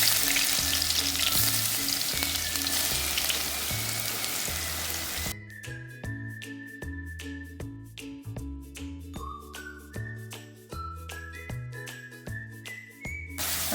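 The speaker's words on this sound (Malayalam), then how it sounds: "വെളിച്ചെണ്ണ ഒന്ന് ചൂടായി വരുന്ന സമയത്ത് നമുക്ക് കടുക് ഇട്ടൊന്ന് പൊട്ടിക്കാം." Mustard seeds spluttering in hot coconut oil give a dense, crackling sizzle that runs steadily throughout, partly buried under loud melodic background music.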